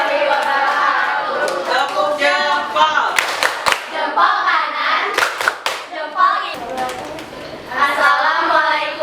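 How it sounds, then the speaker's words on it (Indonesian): Children in a classroom clap in bursts of rhythmic hand claps to a teacher's call, several sharp claps standing out, with children's voices and chatter running under and between them. "Tepuk tangan."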